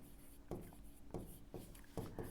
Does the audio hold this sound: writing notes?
yes